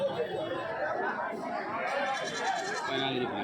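Goats bleat repeatedly among crowd chatter at the Kadiri livestock market, several animals calling near and farther off under a busy din of overlapping voices.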